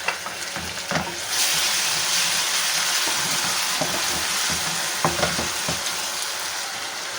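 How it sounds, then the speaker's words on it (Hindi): Steady sizzling of garlic ginger paste frying in a hot pan, with occasional stirring scrapes and clicks, close and fairly loud throughout. "लहसुन अदरक का पेस्ट हमारा भुन चुका है।"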